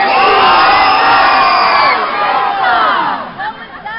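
A large crowd of children at a Renaissance festival shouts together on a count of three, one loud sustained roar of many voices that holds for about two seconds and then breaks into scattered, fading yells.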